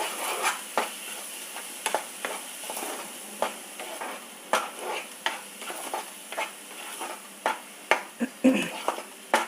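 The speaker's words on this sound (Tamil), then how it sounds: "அப்படியே சிம்லேயே வச்சு 2 நிமிஷம் இப்படி கலரி விட்டுட்டேன்." A spoon scrapes and clacks against a pan in irregular strokes while food sizzles softly underneath on a low flame, close by and fairly loud.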